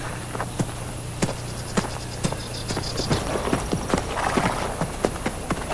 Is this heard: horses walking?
yes